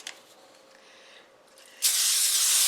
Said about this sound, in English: And I'm going to give it a little spray because this is sticky stuff.